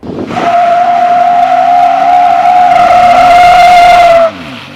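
A 2021 Chevrolet Colorado ZR2 pickup does a burnout with the rear locker engaged, giving a loud, steady tire screech with engine roar under it for about four seconds before it cuts off abruptly.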